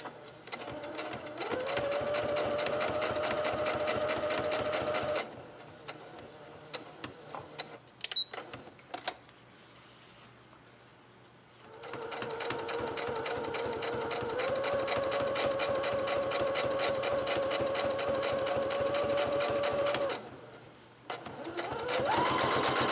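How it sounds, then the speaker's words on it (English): A sewing machine stitches a vest belt in two long, loud bursts of rapid mechanical whirring up close. Between them comes a quieter pause with small handling clicks, then a brief restart at the end. "Sewing the belt together for the second vest."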